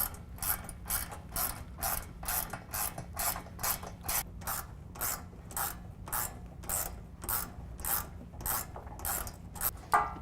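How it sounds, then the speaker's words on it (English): A 13mm ratchet clicks in about twenty short, even bursts, fairly close but quiet, as it tightens bolts on a Havoc HS3 black hoop step bracket on a Ford SuperDuty truck, with no one speaking. "I'll use a 13mm wrench or ratchet and tighten that down"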